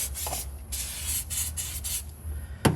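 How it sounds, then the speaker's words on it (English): WD-40 sprayed to wet the flat head surface of a Chevrolet Cruze engine during a head gasket job: several close, short hissing spray bursts in an irregular rhythm, with no talking. "I'm using WD-40 to wet this down and again on the block"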